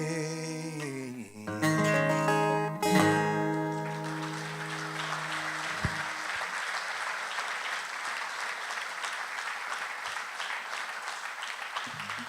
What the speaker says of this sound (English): Thanks for clapping for that one